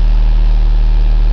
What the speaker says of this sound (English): single overhead cam H4 boxer engine. It's making a suspicious noise.